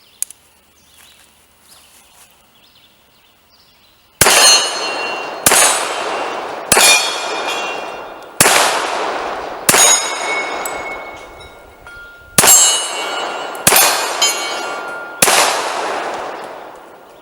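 A Colt Gold Cup .45 ACP pistol fires eight sharp shots at an outdoor gun club range, each followed by a ringing metallic clang from steel targets, spaced about a second apart after a quiet start.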